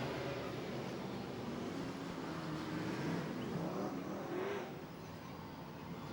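Speedway race cars roar around Gympie Speedway, a distant, blended engine drone that swells and fades as the pack circles the track, with no voices.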